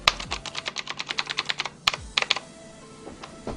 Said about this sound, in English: It probably sounds super clicky to you guys.